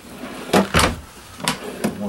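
Drawers and cupboards in the bedroom of a 2016 Thor Hurricane 29M RV open and close, making four short wooden thumps in two pairs, moderately loud and close, with faint background room tone.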